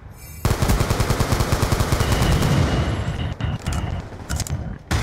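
Rapid, loud gunfire from a multiplayer match of the Black Ops 2 video game, a dense stream of close shots that briefly breaks up into a few separate blasts toward the end.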